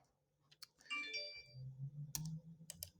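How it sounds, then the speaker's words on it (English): A few faint computer keyboard key presses come as sharp isolated clicks during graphics editing work, quiet against a soft room background. "I'm going to press I on my keyboard."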